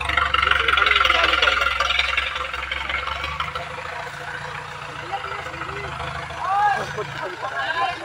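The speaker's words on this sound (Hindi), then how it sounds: "भाई ने काफ़ी हैवी ट्रैक्टर बना रखा है। साउंड भी चेक कर सकते हो आप।" A heavy Mahindra tractor built for stunts runs with a deep, rumbling engine, strongest at first and then lower beneath someone talking close by.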